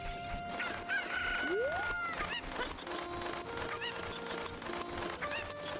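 Cuckoo birds from Ocarina of Time crow and cluck in a rural game scene, with one rising crow call followed by scattered clucks and chirps over steady background ambience.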